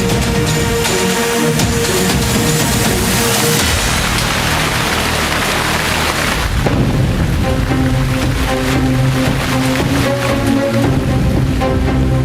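Heavy rain pours down steadily during the Wayanad monsoon that triggered the Mundakkai–Chooralmala landslide, a loud, continuous wash of falling water with a noticeable shift in texture partway through, and no talking.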